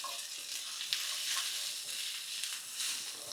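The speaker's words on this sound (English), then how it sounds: "In with the garlic. Give it a little bit of a stir." Garlic frying in a pan for chicken and chorizo jambalaya makes a continuous close sizzle and hiss. Swells and small knocks come as it is stirred, and there is no talking.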